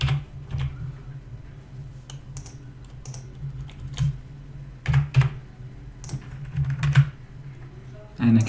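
Keyboard typing on a computer while building a heading for a WooCommerce checkout page in Elementor: scattered, quick clusters of soft key clicks at close range over a steady low electrical hum, with no talking.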